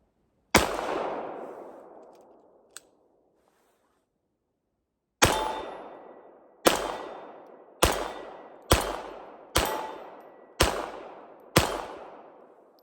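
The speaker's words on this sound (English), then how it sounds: "Got 8 shots of 32 ACP through the FN here." An FN 1922 pistol fires .32 ACP rounds at a range. There are eight sharp, loud shots, each ringing out to a decay. The first shot stands alone, then seven follow in a steady string about a second apart.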